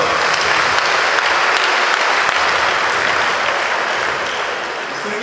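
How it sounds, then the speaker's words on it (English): Loud, dense applause from a crowd at a senator's 75th birthday celebration, a continuous roar of clapping filling the whole stretch and tapering off slightly at the end. "I think he deserves an round of applause."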